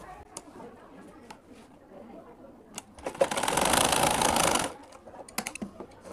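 A sewing machine stitches folded fabric for a school skirt waistband, a steady whirring run of about a second and a half between quiet handling clicks and rustles.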